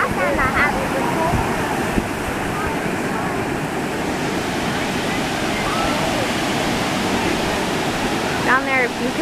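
Ocean waves breaking on a beach make a steady, loud broadband roar with wind buffeting throughout, and a few faint high chirps rise briefly near the start and end.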